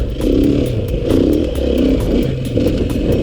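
Beta RR480 enduro motorcycle engine pulling steadily from idle, a loud, continuous low throbbing drone with slight swells in revs and faint clatter, close by and without talk.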